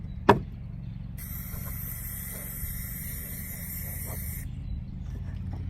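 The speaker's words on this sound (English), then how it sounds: "So you just kind of stick your can in and give it a good coat right in the middle there." A spray paint can hisses in one steady burst of about three seconds, coating the inside of an upcycled wooden pallet candle lantern, close by and alone over a low background hum.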